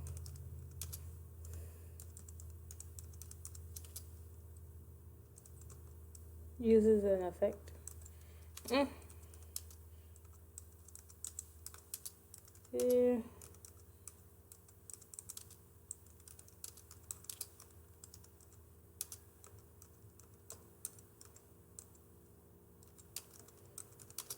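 Typing on a cordless computer keyboard held in a lap, faint scattered key clicks running throughout under occasional brief speech.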